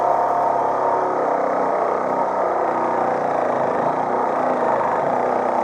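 A Ryobi RRS1801M 18V ONE+ cordless reciprocating saw cuts through a solid M10 steel bolt, giving a steady, loud, continuous motor whine and buzzing blade stroke with no pauses and no speech.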